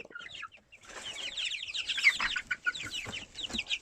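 Backyard chickens cluck and chirp close by during feeding time, with a busy overlapping run of short calls and some wing flutter and no talking.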